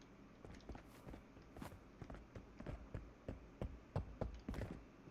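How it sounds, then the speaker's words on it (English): Close footsteps in the video game Marauders, a quick irregular series of soft thuds growing louder as if approaching right beside the listener, with no speech. "I hear these footsteps like they're right on me."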